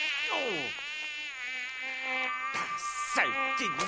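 Cartoon mosquito drones in a thin, high, wavering whine that rises and falls in pitch, close and steady, with a few sharp swoops near the end.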